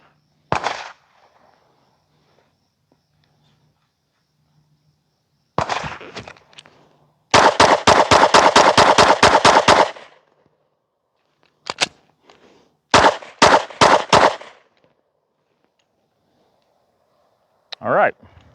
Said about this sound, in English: just do a full mag dump on this target on the left here